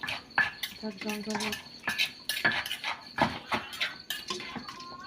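Utensils clink and scrape against pots and bowls as tom yum chicken soup is ladled into a bowl, a close, busy run of metallic knocks and taps with a voice talking in between.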